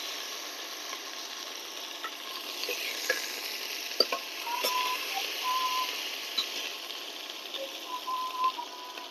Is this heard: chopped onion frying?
yes